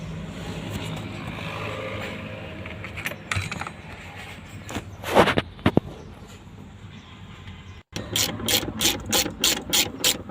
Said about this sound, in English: Remove these two bolts.